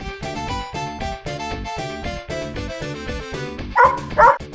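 Dogs barking, with two loud, close barks near the end over a steady, rhythmic musical backing.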